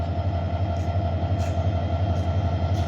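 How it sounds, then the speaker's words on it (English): The Parjotak Express, a non-stop intercity train, rolls out of Chittagong railway station with a loud, steady low rumble and hum of wheels on track, punctuated by brief metallic squeals. "non-stop intercity train, Fajrog Express 860, now departing Chittagong railway station"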